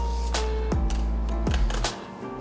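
A fillet knife saws through the rib cage of a flounder caught at a jetty, making several crisp, close crunching clicks over a steady low outdoor rumble.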